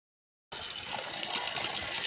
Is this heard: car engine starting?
no